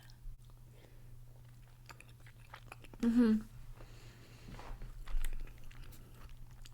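Soft, close chewing of homemade pumpkin pie made with four eggs, a quiet mouthy burst around the middle and scattered faint smacks over a low steady hum, with no talking.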